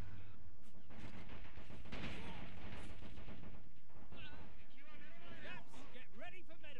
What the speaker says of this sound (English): You're shooting through the window